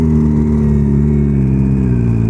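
A turbocharged 1300cc Suzuki Hayabusa of about 300 horsepower, fitted with a cable throttle, revs in a loud, steady, close-up engine drone that holds evenly for the whole stretch, with no voices.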